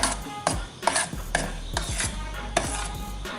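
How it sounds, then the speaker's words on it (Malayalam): Steady scraping and rasping of a spoon stirring jackfruit seed payasam in a steel vessel, repeated strokes close up with occasional metallic knocks, no voices. "ഒന്ന് ചൂടാവാനായിട്ട് ഒരു 5 മിനിറ്റ് ഇളക്കി കൊടുക്കുക."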